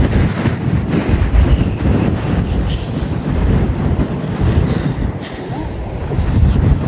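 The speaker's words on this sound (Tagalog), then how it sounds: "Lakas po ng hangin." Strong wind buffets the microphone out at sea near a small fishing boat, a loud, gusty roar with low rumbling throughout and no clear speech.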